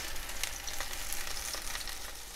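Vegan bratwursts sear in a hot pan with a dense, continuous sizzle and crackle, close up and fairly quiet, with small spitting pops and no voices.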